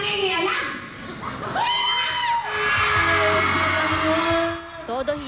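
Fans scream and cheer shrilly for a singing actor, rising and falling shrieks from a close crowd, with voices mixed in.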